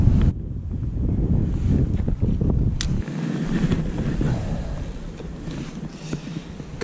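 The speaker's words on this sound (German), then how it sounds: "Ganz schöne Böen am Start hier." Gusty winter wind buffets the microphone in heavy rumbling bursts, with faint water and boat noise underneath and occasional knocks.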